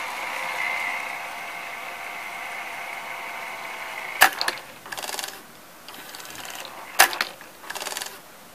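An NEC N966U VCR running, its mechanism giving a steady whirring hum that gives way to sharp mechanical clicks and clunks, with short bursts of gear and ratchet-like rattling close by.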